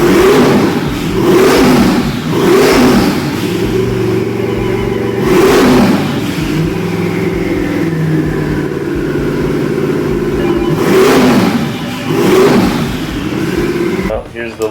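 Twin-turbo 427 engine on a dyno in a Keating TKR build, revving hard in repeated loud pulls that rise and fall in pitch, very close, with talk heard over parts of the run.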